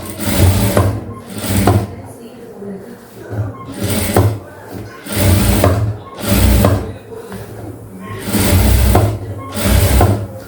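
A domestic sewing machine runs a double stitch on a pleated sleeve for a maxi dress, in repeated bursts of steady mechanical whirring with short pauses, loud and close, while someone talks between runs.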